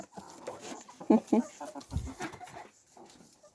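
A chicken clucks a few times nearby amid general farmyard noise, with people talking softly in the background.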